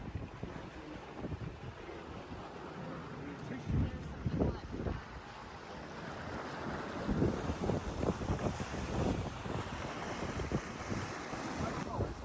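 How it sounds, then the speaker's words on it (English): A prototype diesel-electric speed boat moves through open water on electric jet power alone, with steady wind buffeting the microphone and a low, continuous churn of water beneath. "We're taxiing out of the waterway on complete e-power. The electric jets are pushing the boat"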